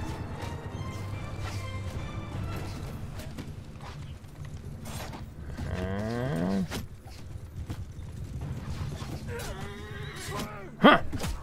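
Horses whinny in a medieval battle in Mount & Blade: Bannerlord, with two distinct neighs rising over a busy backdrop of clattering and clashing, the second sharp and close.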